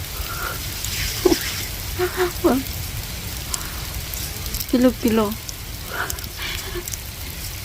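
Steady hissing rain patters down throughout, while a few people talk briefly in the foreground over it.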